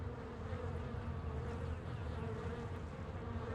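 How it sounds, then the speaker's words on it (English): A steady insect-like buzzing drones continuously at moderate volume in the video game Nancy Drew: The Phantom of Venice, with no talking over it. "What is that buzzing noise?"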